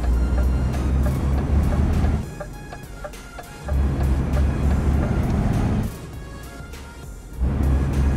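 Truck engine in Euro Truck Simulator 2, a loud steady low drone that swells and eases as the throttle and gears change, alone without voices.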